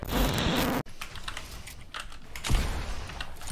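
Rapid clattering keystrokes on a mechanical keyboard sound close and fairly loud, continuing steadily after an abrupt loud burst at the start, with no voices.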